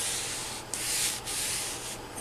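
Hand scraping the end of a Bridgeport milling machine column, steady close rasping strokes in a continuous rhythm with brief pauses between passes, no voices.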